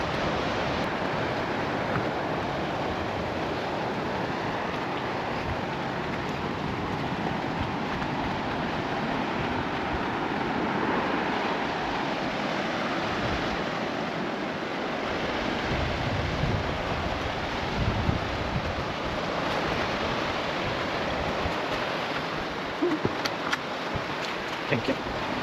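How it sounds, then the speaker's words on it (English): Ocean waves washing ashore at Billy's Bay Beach, Treasure Beach, with gusting wind buffeting the microphone in a continuous, fairly faint wash of surf noise. "So we are heading to the beach."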